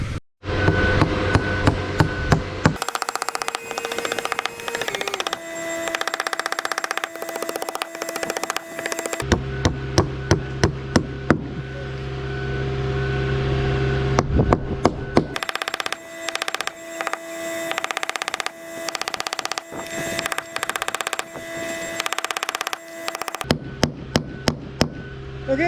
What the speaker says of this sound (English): And then a little bit of cotton. And we pound them up.